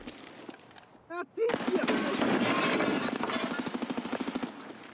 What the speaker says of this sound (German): Holy shit, das waren aber viele Schüsse für den Scap.